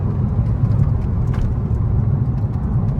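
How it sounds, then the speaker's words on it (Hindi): A modified Hyundai Verna diesel car cruises at around 100 km/h in fourth of six gears, its engine and road noise forming a loud, steady, close interior rumble. "देखो इतने में 100 चढ़ गई है गाड़ी"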